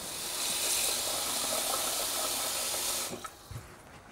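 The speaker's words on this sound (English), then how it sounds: "And then all we do is top up with water." Water pours steadily into a pot of lamb for about three seconds, a broad close splashing rush that cuts off abruptly, followed by a couple of soft knocks.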